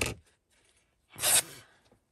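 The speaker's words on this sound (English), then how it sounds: "let's go ahead and cut that in half." Scissors snip through paper during junk journal crafting, one brief crisp cut standing out in an otherwise quiet room, preceded by faint handling noise.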